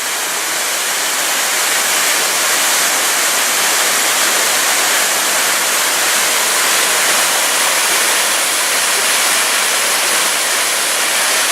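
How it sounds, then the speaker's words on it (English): A frozen waterfall roars with a loud, dense, unbroken rush of falling water that stays constant throughout, with no voices. "waterfall."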